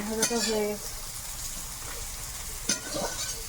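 Dried red chillies sizzle in hot oil in a pan, with a steady frying hiss, a couple of sharp clinks of a utensil against the pan, and a brief voice near the start.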